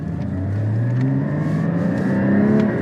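A 2016 Porsche GT4 engine revs up steadily, its pitch climbing as it accelerates, close and loud with no talking.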